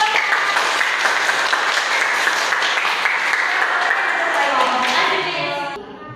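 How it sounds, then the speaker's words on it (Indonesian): Audience applause for a student group in a school mathematics class, with dense, steady clapping filling the room before it tapers off near the end. "Ya, tepuk tangan untuk kelompok."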